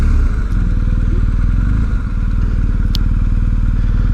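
A BMW R 1250 GS boxer motorcycle rides along a street, its engine droning steadily and loud up close with a dense low throb, a brief dip near the middle suggesting a gear change and a faint click late on.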